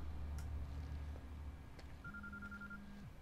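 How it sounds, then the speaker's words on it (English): In the video game Quantum Break, a cell phone rings faintly in the distance, a few electronic tones followed by one longer sustained buzz over a low ambient hum, with no voices. "It's your cell phone, you idiot."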